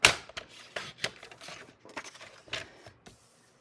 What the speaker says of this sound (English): we're going to cut 2 rectangles at 4 inches